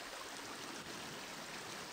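The Oder river flows quickly past, a faint, steady broadband rush of moving water with no voices or other sounds over it.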